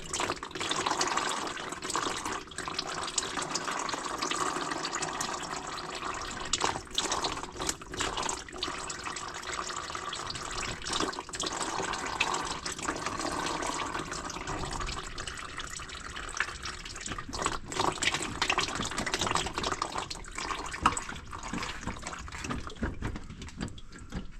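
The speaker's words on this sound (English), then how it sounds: "We'll let that drip for a little bit, then we'll clean it up." Transmission fluid from a pickup truck drains into a metal drain pan in a steady, continuous trickling stream that holds at an even level with no voices over it.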